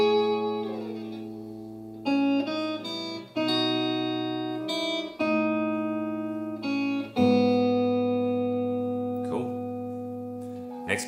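Electric guitar plays the opening bars of a song with sustained chords that change every couple of seconds, clean and up close with a little reverb.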